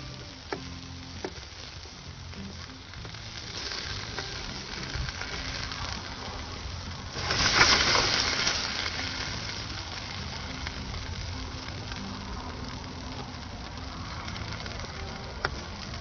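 Sausages frying in a pan hiss with a steady sizzle and crackle, swelling briefly louder midway with a few sharp ticks, fairly close and alone.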